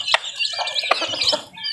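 Chicks peep in high, warbling chirps at close range with a few soft pecking taps, the mother hen clucking nearby amid the brood.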